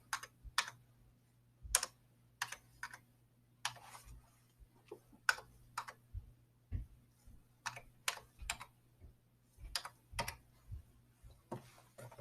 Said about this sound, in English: you can type in the ISBN number directly into this chart